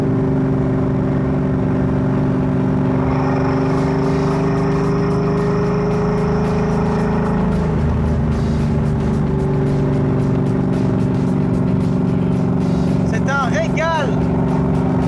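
A car engine, in a vehicle with a Ford Mustang II front end, is held at about 3000 rpm, giving a loud, steady, continuous drone that stays near and unbroken throughout.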